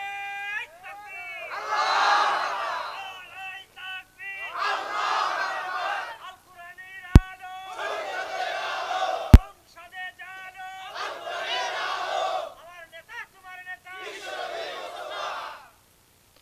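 A large crowd at an open-air Islamic sermon gathering in Bangladesh shouts in unison, five loud rhythmic bursts of massed voices separated by brief pauses, with two sharp clicks between them.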